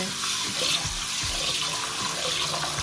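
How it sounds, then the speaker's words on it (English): Steady running cold water pours from a tap, with soft splashing and low knocks as mung beans are rinsed underneath, continuous and close. "Rinse with cold water."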